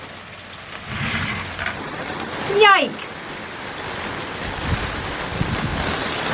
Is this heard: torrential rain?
yes